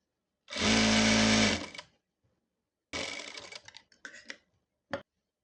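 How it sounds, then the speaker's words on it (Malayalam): Sewing machine stitching the folded hem of a churidhar lining: one loud steady run of about a second, a pause, then a rougher burst of short stitching spurts ending in a brief final jab. "ലൈനിങ്ങിൻ്റെ അടിഭാഗം മടക്കി തയ്ച്ചു."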